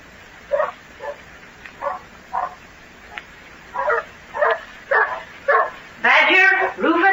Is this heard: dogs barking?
yes